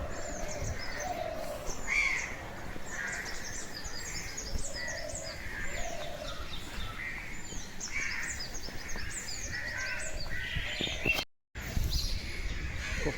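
Many kinds of birds call and chirp through a quiet early morning on empty streets lined with flowering trees, with crows cawing now and then among steady overlapping songs and tweets, fairly close and continuous, broken by a brief dropout near the end.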